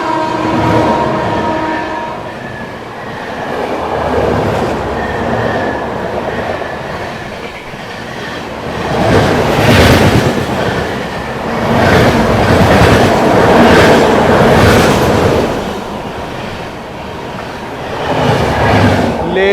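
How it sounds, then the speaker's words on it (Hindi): The Shivganga Superfast Express rushes past loudly and close by, its wheels clattering in a rapid, rhythmic clickety-clack over the rail joints, with excited voices under the roar. "क्या आ रही है भाई, शिवगंगा सुपरफास्ट एक्सप्रेस"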